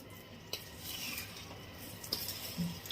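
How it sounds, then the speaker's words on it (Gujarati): Jaggery stirred into hot ghee in a pan, giving a quiet scraping, clattering stir with light sizzle and occasional utensil knocks against the metal, steady and close throughout. "થોડુંક આપણે ઘી લીધું છે એમાં આપણે અડધો કિલો જે ગોળ લીધો છે ને એડ કરી દઈશું"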